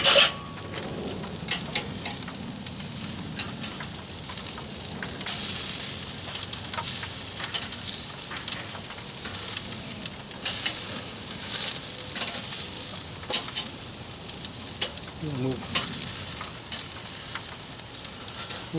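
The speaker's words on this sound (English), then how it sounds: "Time to flip the zucchini." Zucchini slices are flipped and moved around on a hot grill beside beer can chicken, with a steady sizzle and hiss broken by scraping and clinking of the utensil against the grate, and no one speaking.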